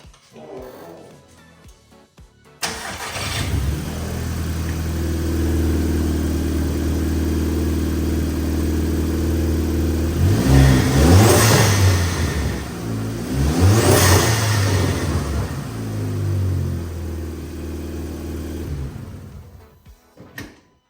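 A Volkswagen Mk5 GTI engine cranks and starts after a brief pause, then idles loudly up close with two rising revs midway before settling back.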